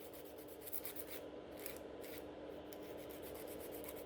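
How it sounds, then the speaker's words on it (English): Hand file rasping along the free edge of a nail extension, a very quiet, close, steady scratchy rubbing with short quick strokes and no talking. "So we are going to swap to a hand file. I just quickly remove the dust, and then reshape the free edge."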